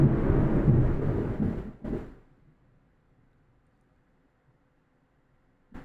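A loud, rumbling peal of thunder from a heavy rainstorm, heard from inside a house, rolls for about two seconds and then fades into near silence before a brief soft knock at the end.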